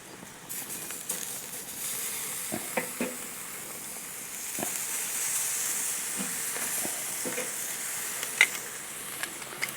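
Kurobuta pork chops sear on a grill with a steady, close sizzling hiss, broken by scattered pops and crackles throughout, and no voices.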